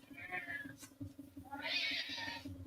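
A cat meows twice, close and clear, the two calls separated by a short pause.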